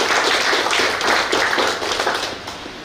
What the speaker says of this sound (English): I think she deserves a very big round of applause from all of us.